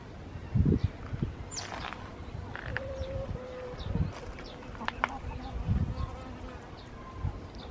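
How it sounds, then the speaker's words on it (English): Bees buzz faintly around flowers outdoors, thin drifting hums against a soft background with occasional distant birdsong. "you can hear the bees buzzing around them"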